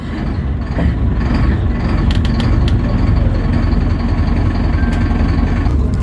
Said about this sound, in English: I love route master noises, I'm not gonna lie.